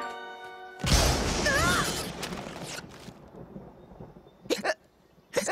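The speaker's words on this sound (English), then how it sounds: "Stop, you gave him the hiccups." A cartoon pony character hiccups amid a loud, noisy burst of background sound, then two more sharp hiccups come near the end.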